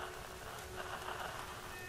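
Steady rain in the video game Tomb Raider patters on a surface at a low level, a constant hiss without pauses.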